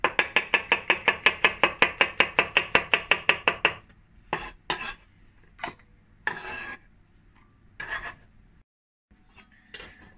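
A knife slices peeled vegetables into thin pieces on a board for a quiche Lorraine: about fifteen quick, even chops close up, followed by slower, scattered cuts and brief pauses, with no speech.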